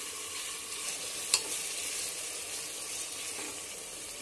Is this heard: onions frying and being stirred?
yes